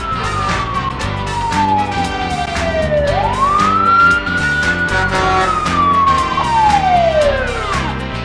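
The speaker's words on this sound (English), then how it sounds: "Hear the motors roar and the sirens blow." Fire engine sirens wailing, a loud close tone sweeping down then rising and falling again, layered over a steady engine rumble and rhythmic horn-like pulses, with no talking.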